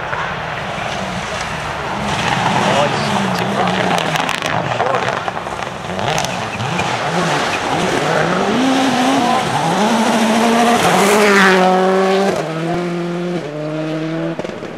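Toyota Corolla rally car at the 2004 Sunseeker Rally sweeping past with a rising then falling engine note and gear changes, loud and close, with spectators talking over it throughout.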